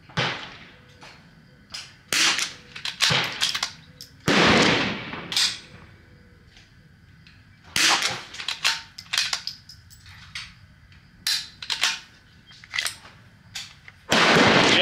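Sharp rimfire rifle shots from a Vudoo rifle firing Eley Target ammunition, a dozen or so loud cracks spaced irregularly across the span, each with a brief echoing tail, no talking.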